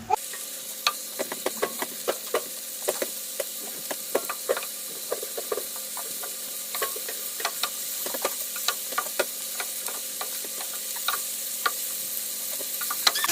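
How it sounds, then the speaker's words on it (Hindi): Chicken frying in hot oil for a chicken tikka wrap, a steady low sizzle with frequent sharp clicks and taps of a utensil stirring the pan, close and fairly quiet. "ऑयल हमारा गर्म हो गया तो मैं इसमें अब ये चिकन डाल दूंगी"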